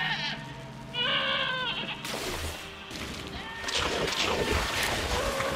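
Sheep bleat in a cave-rafting video game, wavering calls around one to two seconds in, followed by splashy game sounds and other noises, with no one talking.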